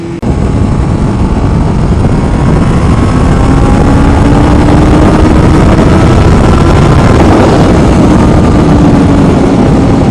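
Honda Nighthawk S motorcycle accelerating hard in first gear, a loud steady engine drone rising in pitch under heavy wind rush throughout, with no talking.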